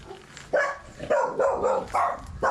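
A dog barks in several loud, sharp bursts close by, about four barks spaced roughly half a second apart, with no talk over them.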